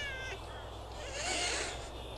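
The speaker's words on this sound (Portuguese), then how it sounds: "Tá entupido de gatinhos aqui, eles estão meando sem parar." Many kittens meow in the video game Thirty Flights of Loving, a faint overlapping chorus of small mewing cries heard under a person talking.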